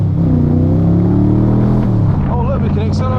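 A 5.7-litre V8 in an AC Cobra replica, a Dax Tojeiro, rumbles loudly from the driver's seat as it pulls away and accelerates, a deep steady drone that rises slightly in pitch, with a voice speaking briefly near the end.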